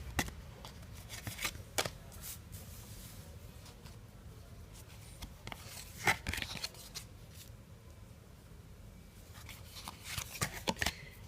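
Tarot cards are shuffled and drawn in a quiet room, giving soft scattered riffles and sharp flicks and taps at irregular intervals, faint and close with no talking.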